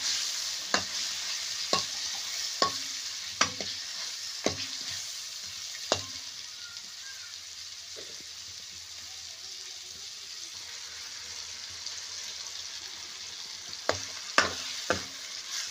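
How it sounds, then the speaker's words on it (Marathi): Bitter gourd pieces stirred and frying in oil in a pan, with scattered scraping stirs over a steady soft sizzle, brief quiet stretch in the middle before more stirring near the end. "बघा आता कारले टाकलेले आहे व्यवस्थित. आता तेलामध्ये हलवून घ्यायचं आहे त्यांना."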